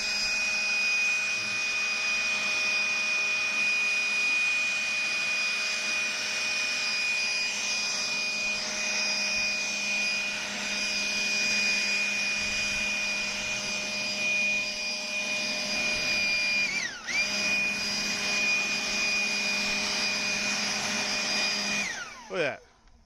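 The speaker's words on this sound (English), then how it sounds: "If you don't have a leaf blower, sell your cloak and buy one, man. These things rock." Leaf blower running steadily with a high whining drone, used to dry off an engine bay on a Ford F250 Super Duty with a 5.4 3V engine; continuous and close, briefly dipping once before cutting off at the end.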